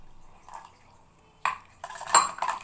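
Beaten egg and milk are stirred together in a bowl, with quiet scraping at first and then a burst of clinking spoon-on-bowl strokes and liquid sloshing near the end.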